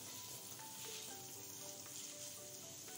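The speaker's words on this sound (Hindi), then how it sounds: "इसको थोड़ा सा इसके साथ मैं फ्राई करूँगी" Chopped bell pepper (capsicum) fries gently in a pan over a low flame, giving a faint, steady sizzle with soft crackles throughout.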